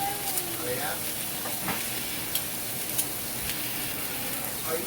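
Spicy vegetables cook down in a pan with a steady, close sizzle and hiss, broken by occasional small pops and crackles throughout.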